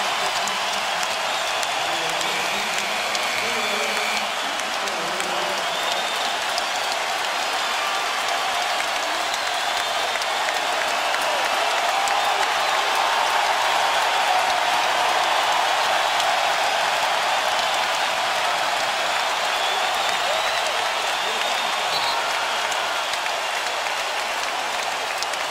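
Sustained roar and applause from a basketball crowd at the 2012 NBA Finals Game 5, a dense, loud wash of cheering and clapping that swells slightly midway and holds steady throughout.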